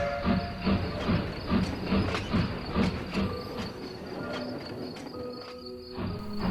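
A steam locomotive sound effect from an audio drama: rhythmic chuffing and clanking wheels with a steady hiss, loud and close, running continuously with no talk.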